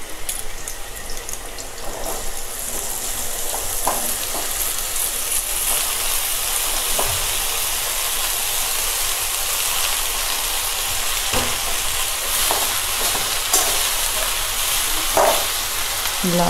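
Bottle gourd added to a pan of potatoes already frying, giving a steady broadband sizzle throughout with occasional scrapes and clinks of stirring, close and continuous.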